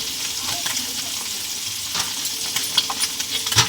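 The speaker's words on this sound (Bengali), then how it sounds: "মাছগুলো ভেজে নেব।" Small fish fry in a pan with a steady, close hiss and crackle of hot oil that holds level throughout, with a few sharper pops near the end.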